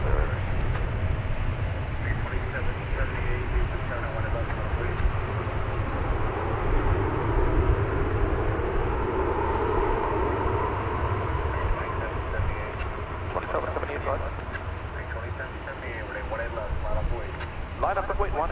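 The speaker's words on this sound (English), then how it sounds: "An American Airlines plane painted in the colors of a former airline, which is part of its heritage." An American Airlines airliner in heritage livery at DFW Airport, a steady, broad jet roar holding throughout, with talk running over it.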